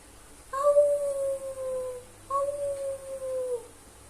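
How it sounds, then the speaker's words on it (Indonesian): A wolf gives two long mournful howls, close and clear, each a sustained tone that slowly falls in pitch, separated by a short pause. "Apakah itu suara serigala?"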